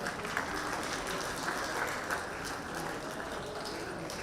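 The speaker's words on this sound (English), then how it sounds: "A huge round of applause for Dr. Pratap Reddy." Audience applause in a conference hall at a national health summit, a continuous, moderately loud spread of many hands clapping with a roomy, echoing quality.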